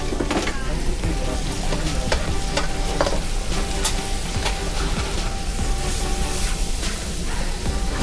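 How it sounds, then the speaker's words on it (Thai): Instant noodles are stir-fried with lots of vegetables in a hot pan. A loud, continuous sizzle sits close up, with scattered clatters from the utensil scraping and tossing the food. "ผัดมาม่าใส่ผักเยอะๆ"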